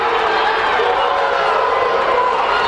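A crowd at a high school boys' basketball regional semifinal booing after a no-call, a dense, steady wash of voices filling the gym with no breaks.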